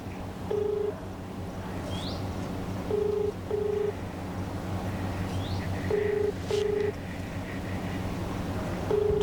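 A telephone rings in repeated short double bursts, fairly loud over a steady background hum with faint birdsong, and no talking.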